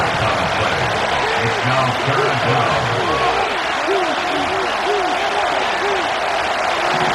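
Stadium crowd in the Madden 25 football video game roars at a third down, a loud sustained wash of cheering with swelling whoops, while a commentator talks over it.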